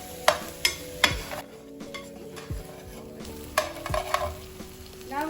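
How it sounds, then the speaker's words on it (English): Eggs fry in a pan for kimchi fried rice, a steady close sizzle broken by several sharp scraping stirs and clacks of the utensil against the pan. "I'm just gonna mix it together"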